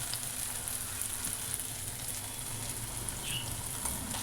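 Puffed rice (borugu) frying in a pan, giving a steady, even sizzle throughout, close and moderately quiet.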